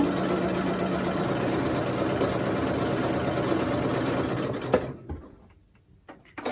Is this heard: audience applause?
no